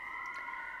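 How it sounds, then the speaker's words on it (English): Emergency vehicle sirens outside, a faint steady wailing tone held through a brief moment, distant and alone. "There's a lot of sirens here today too."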